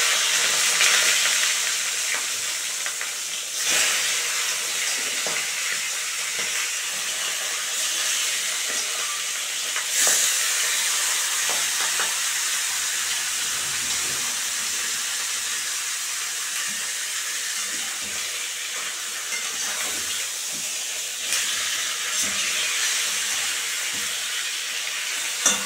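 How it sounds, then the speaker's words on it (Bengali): Katla fish heads fry in hot mustard oil in a wok, giving a steady, loud, close sizzling hiss that runs unbroken throughout with no voices. "তেল গরম হয়ে গেছে, মাথাগুলি ভেজে নেব।"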